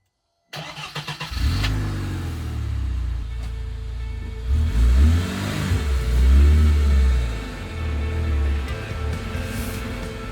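An Irbis 320 4x4 utility buggy engine starts and revs repeatedly while driving, rising and falling in pitch, loud and close with rattling mechanical noise throughout.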